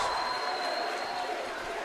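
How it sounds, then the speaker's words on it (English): A home crowd at a high school basketball game cheers and murmurs in a steady, loud wash of noise through the gym, with a commentator's voice talking over it. "you can hear this Cougar crowd there fired up"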